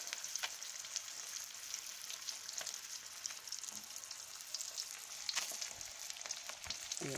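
Fish fries in a pan of hot oil over high heat until burnt black, giving a steady close sizzle with scattered sharp crackles and pops throughout.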